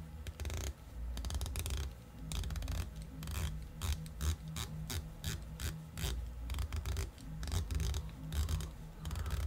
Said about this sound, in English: This bezel is 120 click unidirectional rotating.